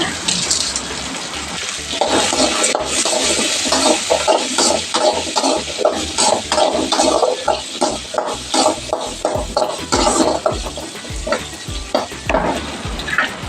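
Curry leaves and grated coconut sautéing in a hot pan for a chana gravy, a steady loud sizzle broken by rhythmic scraping stirs.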